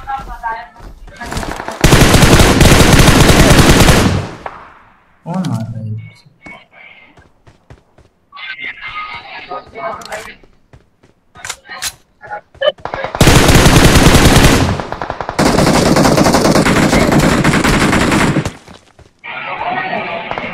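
Loud bursts of automatic gunfire from the mobile battle-royale game PUBG Mobile come in several separate sustained volleys, with quiet gaps and whispered or low voices between them.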